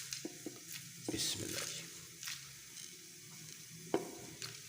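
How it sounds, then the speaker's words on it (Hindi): Whole spices, cinnamon, black cardamom, cumin and black peppercorns, sizzling in hot oil for bhuna gosht, a soft steady hiss broken by clinks of stirring against the pan, with a brief spoken phrase at the start. "अब हीट शुरू हो गई है और इसमें अब डाल देते हैं खड़े मसाले, दालचीनी, बड़ी इलायची, ज़ीरा, काली मिर्च"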